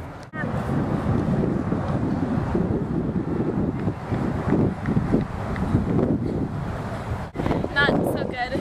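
Strong wind roars across the microphone at an outdoor cross country regional race, a steady loud buffeting rush that fills the whole stretch with only brief dips.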